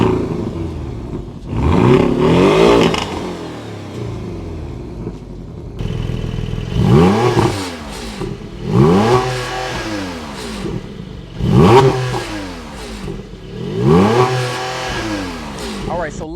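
A Porsche 718 Cayman GTS 4.0 engine revs repeatedly, rising and falling in four or five loud bursts with brief pauses between them, close up.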